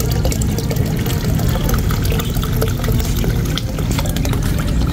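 Water pours loudly and steadily as a paroon shark is released into a backyard pond. A continuous, close gushing sound fills the whole clip with no pauses.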